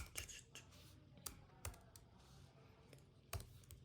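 Fingers type a name on a computer keyboard: scattered, fairly quiet key clicks with a few sharper taps, spaced irregularly across the stretch in a quiet room.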